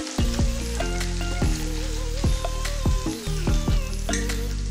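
Besan is stirred into paneer bhurji frying in a pan, giving a steady close sizzle with stirring scrapes over a few seconds.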